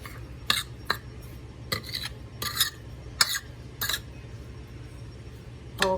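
A utensil stirs Italian-style breadcrumbs with all-purpose flour in a bowl for potato patties, making sharp intermittent clinks and scrapes against the bowl over a quiet kitchen background, with no talking.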